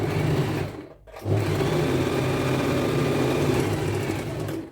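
A sewing machine runs steadily while stitching the lining of a lehenga jacket with a half-inch margin, its close motor hum briefly pausing near the start before continuing without talk.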